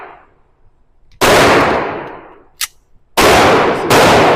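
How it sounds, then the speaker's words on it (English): SIG pistol shots at shooting practice: a few loud, sharp cracks, each followed by a ringing decay, with one small pop between them and a quick pair of shots near the end. "I'm shooting the SIG real good."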